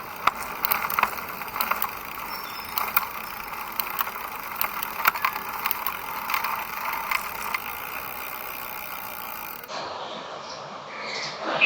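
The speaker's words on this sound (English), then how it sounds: "the gear shifting is very quick and very smooth" Rear derailleur shifting on a 2020 Montra Rock 4.1 29-inch mountain bike, heard as a steady run of mechanical clicks and ratcheting freewheel ticks at close range, with no talking, ending in quieter room noise.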